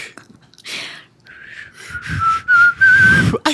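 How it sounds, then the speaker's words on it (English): Someone whistles a short, bright, sustained melody, close and clear, with the notes rising and becoming stronger toward the end before stopping abruptly. "I just got one really good whistle in."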